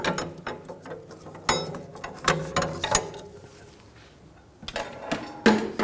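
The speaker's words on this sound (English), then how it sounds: "Now torque these to 49 foot-pounds." Torque wrench tightening brake caliper bolts on a BMW 328i, close metallic ratcheting clicks in short bursts with pauses between, ending in sharper clicks.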